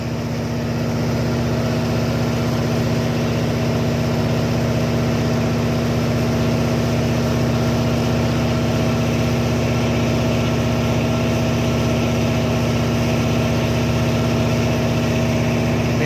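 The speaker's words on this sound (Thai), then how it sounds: "นี่แหละครับเรียกว่าพลังเรือหลากเรือโยงแซงเรือประมงครับ" A tugboat's engine drones steadily at sea at the Pattani river mouth on the Gulf of Thailand, a loud, close, unbroken low hum with vibration and no talking.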